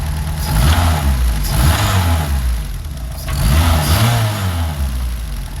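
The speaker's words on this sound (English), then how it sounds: "it has a bad crank or rod. You'll kind of hear it right here." A Honda Civic Si (EM1) engine with a bad crank or rod knock runs close by, a loud uneven rumble that swells and eases in two revving surges, with no talking over it.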